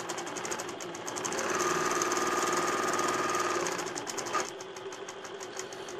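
An INNOVA AutoPilot quilting machine stitches a computer-guided text and path design, a loud steady mechanical hum with rapid needle chatter that swells in the middle and eases off near the end.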